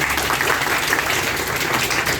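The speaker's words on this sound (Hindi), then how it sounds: "उसके लिए जोरदार ताली।" Audience applause for a child who took the microphone at a certificate ceremony for 80 children, dense steady clapping from a crowd filling the whole short stretch at even loudness.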